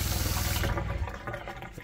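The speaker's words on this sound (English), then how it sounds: "I can turn on the hot tap. You can hear the new pump working" Hot tap running into a caravan sink, fed by a newly fitted water pump: close, steady gushing water that eases to a lighter trickle with faint rhythmic pump pulses.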